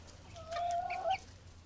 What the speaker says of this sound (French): C'est vraiment une petite poule.